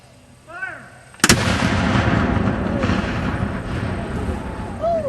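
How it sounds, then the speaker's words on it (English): A single Civil War cannon fires at Chickamauga Park with one sharp, loud blast, and a long rolling rumble echoes across the field afterward. Faint bird chirps can be heard before the shot and near the end. "That, of course, is the discharge of just a single gun."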